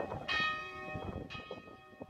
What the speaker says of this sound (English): the bells rang out at the Zion United Church in Buren last evening